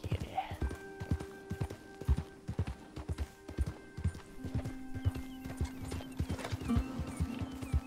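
Horse hooves clip-clop in a steady rhythm in the game Red Dead Redemption 2, with an occasional whinny and background game sounds over a low ambient hum.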